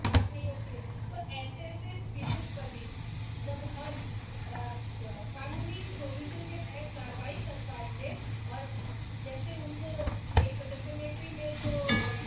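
Chopped ridge gourd is stirred in a cooking pan, giving a steady soft sizzle with occasional light clinks of a spoon against the metal, while a voice talks over it throughout.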